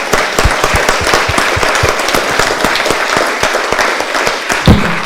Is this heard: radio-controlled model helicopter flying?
no